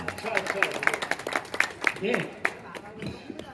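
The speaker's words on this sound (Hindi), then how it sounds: "एक बार तालियां बजा जोरदार है।" Audience at a Hindi poetry recital claps in a dense, uneven round, with voices and some talk mixed into the applause.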